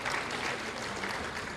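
An audience at a Muhammadiyah open dialogue applauds a speaker, Prabowo Subianto, with a continuous, moderately loud wash of clapping throughout.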